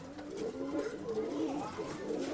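At an outdoor pigeon sale in Bangalore, pigeons coo softly and fairly close, in low, rolling, repeated calls that run throughout at a quiet level.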